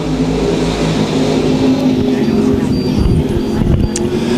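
USRA race cars roaring around the dirt oval at Lakeside Speedway during a nationals heat race, a loud continuous blur of engines holding steady throughout, with an announcer talking over the noise.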